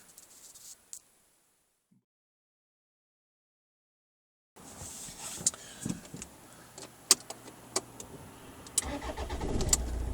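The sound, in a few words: car engine starting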